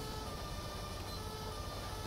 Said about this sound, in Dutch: Sirene is best zacht, geloof ik.